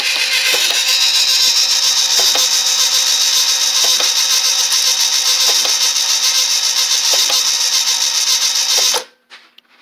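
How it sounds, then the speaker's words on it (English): An antenna rotator's worm gear turns the main antenna shaft while a small cam taps a reed switch, giving a steady close mechanical whir with regular light clicks under one second apart before the motor stops near the end. "See how the worm gear runs the main antenna rotator, and a little cam hitting a reed valve or reed switch."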